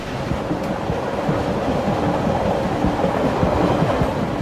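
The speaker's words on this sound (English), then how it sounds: "Via Rail's supercontinental passenger train number 4 is cruising toward Edmonton, Alberta." Via Rail passenger train cruising on rails through the Canadian Rockies toward Edmonton, a steady loud rumble with a faint rhythmic clatter of wheels, continuous and close, with no voices.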